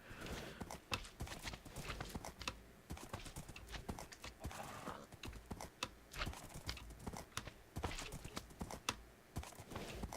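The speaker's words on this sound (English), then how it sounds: "Let's just ride our horse around." A horse ridden in the Minecraft video game clops rapidly and continuously, with steady, evenly paced hoofbeats close up and no talking.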